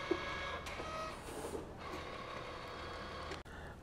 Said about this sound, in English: I'm going to go print nozzle check, start, and let's see what happens.